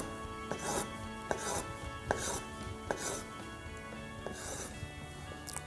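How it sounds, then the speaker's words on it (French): A knife slicing avocado into thin strips for tartare on a board, steady rhythmic knocks of the blade repeating about once a second, close and moderately loud. "On va commencer par faire de fines lamelles."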